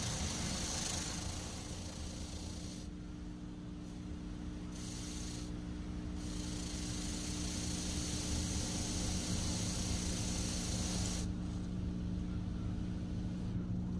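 A touch-free Mark VII car wash at a Circle K in Cypress, Texas, runs its high-pressure rinse: a loud, steady blast of spraying water roars close by for the whole stretch, with brief dips in the hiss.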